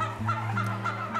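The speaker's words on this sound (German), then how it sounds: "Unbeirrt vom Regen tummelten sich die Puten auf ihrer großen Wiese." Free-range organic turkeys on a large meadow in western Styria, Austria, gobble in the rain. Several close, warbling calls repeat in quick succession.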